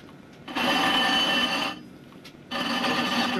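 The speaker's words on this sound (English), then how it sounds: "I'm doing a lot of the grinding right near the edge of the tool" A 20-inch telescope mirror is ground by hand with abrasive, giving two long gritty rasping strokes separated by a brief pause, close and moderately loud with no talk.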